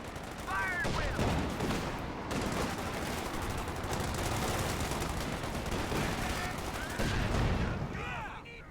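Dense gunfire from infantry and armored vehicles crackles and booms continuously in Company of Heroes 2, a loud, sustained barrage with overlapping shots and rumbling explosions.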